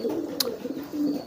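A young pigeon coos softly and close, a low throaty murmur that rises and falls in short phrases across a brief moment, with a faint click partway through.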